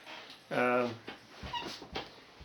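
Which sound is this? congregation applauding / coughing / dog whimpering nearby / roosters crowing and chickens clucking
dog whimpering nearby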